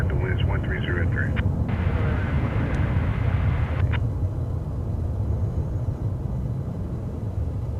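An airplane landing on runway 18 right at DFW Airport gives a steady, loud engine roar that fills the whole stretch, with a brief higher-pitched whine near the start and a faint voice underneath.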